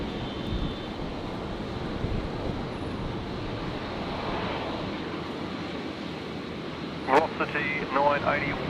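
An aircraft lands on a runway at Brisbane Airport with a broad, distant roar that holds steady throughout, and a short radio voice breaks in near the end.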